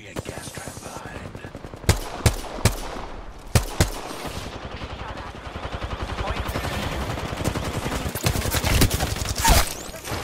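Rapid gunfire rattles through a shooter video game firefight, with several sharp loud shots standing out over a steady stream of automatic fire and clattering effects, and a voice speaks briefly amid the shooting.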